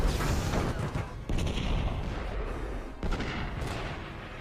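Heavy naval guns pound the battleship Bismarck in a dramatised sea battle, a dense, loud barrage of booms and blasts with sudden fresh impacts rolling over one another, no voices.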